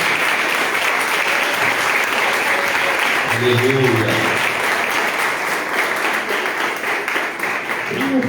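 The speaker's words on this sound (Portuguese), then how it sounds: "Pode aplaudir a Jesus." A church congregation at a live worship service applauds loudly and steadily throughout, while a voice calls out briefly in Portuguese over the clapping.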